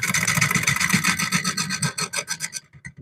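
A lathe tool cuts into a spinning olive wood bowl with a loud, close, rhythmic rasping scrape that breaks into separate pulses as the cut lightens near the end.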